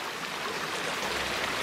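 Water flows steadily in a soft, continuous rushing murmur, like a small stream heard from close by, with no voices.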